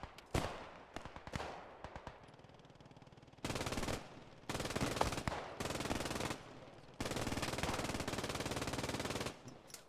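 Sten gun fire in the World War II shooter Post Scriptum during a realism event: rapid automatic bursts, some short and scattered, then several sustained rattling volleys at moderate distance, with no talk.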